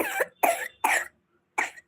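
Four short, forceful coughs in quick succession close to the microphone, with a brief pause before the last one.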